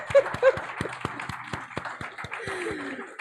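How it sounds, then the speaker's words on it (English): A sparse round of applause from a small gathering honoring a longtime staff member, with scattered individual claps ringing out fairly close amid light chuckling. "I think this is worth a round of applause."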